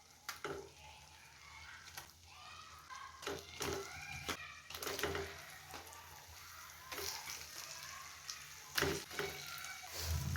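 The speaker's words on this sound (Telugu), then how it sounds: "ఇది కొంచెం వేగనిద్దాం" Chanduva (pomfret) fish pieces frying with masala in a pan for a pulusu with okra, a steady close sizzle broken by repeated stirring and scraping clatters, with no talk.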